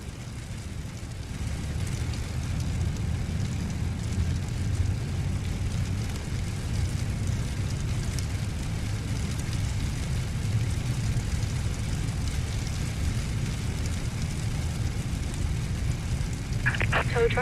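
Engines 3 and 4 of a Boeing 747 spooling up in Microsoft Flight Simulator 2020, a steady low rumbling roar that builds early and holds even and continuous, with a brief click near the end.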